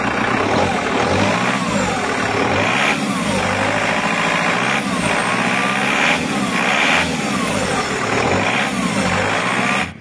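A rebuilt Kia Carnival diesel engine runs steadily in a workshop after reassembly, a loud continuous rumble with repeated rising and falling revs and no talk.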